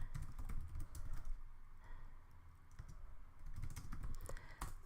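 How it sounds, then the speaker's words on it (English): Someone types on a computer keyboard in a steady, uneven patter of quick clicks with short pauses, close and fairly clear over a low background rumble. "I am so bad at typing."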